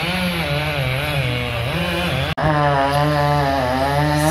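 A chainsaw runs loud and steady close by while a tree section is being felled during a beehive relocation, its engine pitch wavering slightly, with one abrupt momentary dropout midway before the saw drones on.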